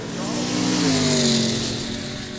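A Holden Commodore racing a Nissan Patrol to the finish line at a quick street drag day in Kooralbyn Valley: a loud, sustained engine roar that rises and then eases off as the vehicles pass close by.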